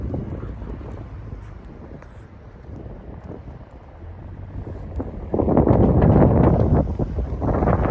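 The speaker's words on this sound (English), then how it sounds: "but it's pretty windy." Strong gusting wind roars across the microphone during an overnight snowstorm on a Manchester, New Hampshire street near old mill buildings, a steady rush that swells louder and harsher partway through, with no talking.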